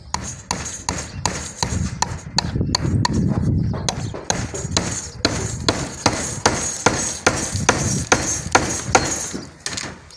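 A hammer driving a nail on a building site during electrical pipe fitting for a room, heard as a long series of sharp, close metallic strikes, irregular at first and then in steady repeated blows, alone without talk.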